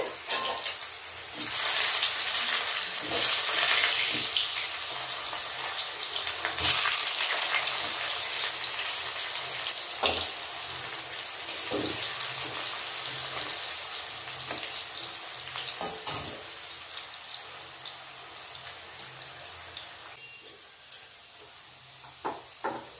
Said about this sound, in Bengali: এবার দিয়ে দিচ্ছি আলু ভাজতে।